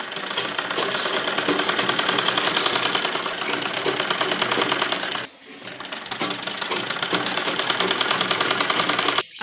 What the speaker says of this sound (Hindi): यहाँ पर हम सिलाई करेंगे।